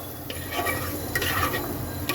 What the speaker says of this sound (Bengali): এবার এটাকে কম আঁচে সুন্দর করে ভাজা ভাজা করতে হবে